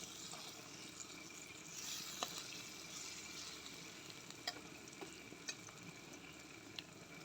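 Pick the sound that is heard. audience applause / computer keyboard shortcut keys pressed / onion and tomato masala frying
onion and tomato masala frying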